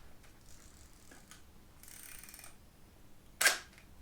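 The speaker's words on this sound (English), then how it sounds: "listen to this shutter. It's a beautiful sound." Zenit-E SLR camera shutter firing once, a single sharp mechanical snap near the end, preceded by quieter handling clicks and a brief rustle close to the microphone.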